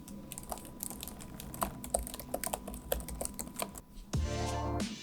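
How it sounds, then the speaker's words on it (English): Keys clatter steadily on the keyboard of an MSI Creator 15 laptop, a soft, fairly quiet patter of quick presses, close by and alone, with a denser burst near the end. "As far as the keyboard and, you know, like the key travels, it's very pleasant and it's not really loud to the ears."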